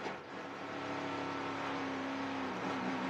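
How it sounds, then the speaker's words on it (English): A NASCAR Camping World Truck Series race truck at Talladega tries to start its engine and revs in a broad, steady roar that drones on for a few seconds amid distant track noise. "You hear Kyle Busch on and off there starting his engine."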